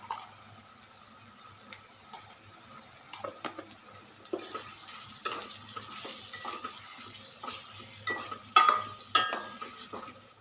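Onion, chilli and tomato cooking in a pan with salt and turmeric, quiet stirring scrapes and utensil clinks over a faint sizzle, growing busier in the second half.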